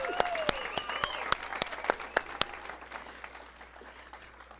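Guests at a middle school promotion ceremony applaud the graduating class, with several sharp, close individual claps standing out over softer crowd clapping that gradually tapers off.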